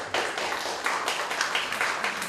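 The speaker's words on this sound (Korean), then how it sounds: "박수 한번." Applause from an audience at a Chung-Ang University curriculum certification briefing, welcoming the director to the front: dense, steady clapping from a small room of people, fairly close and even throughout.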